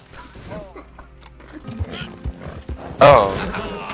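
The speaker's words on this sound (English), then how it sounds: "I'm stuck under the horse!" Horse in Red Dead Redemption 2 Online, with hoof clatter and a scuffle under excited talk, then a loud burst of crashing and a harsh whinny-like cry near the end.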